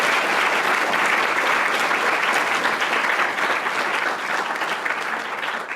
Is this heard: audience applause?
yes